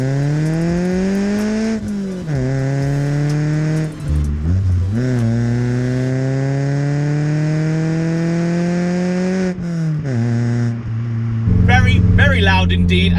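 A modified VW Polo GTI 6N2 with a non-standard, very loud exhaust revs hard several times, each rise in pitch falling back before climbing again, close and loud, with someone talking over part of it.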